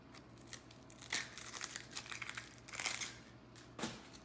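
A very large white onion has its dry outer skin peeled off by hand, giving soft, close crinkling and papery tearing in irregular bursts.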